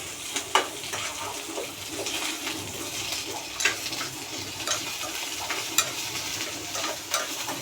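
Onion and curry leaves frying in a pan for a tamarind okra curry, a steady close sizzle broken by several sharp scraping clicks of a spoon stirring, with no voices.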